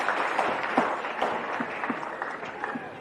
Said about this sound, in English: So a round of applause for the umpires.